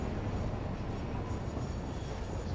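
Aluminum freight train in Satisfactory rolling past, a dense steady low rumble with constant mechanical roar and no pauses.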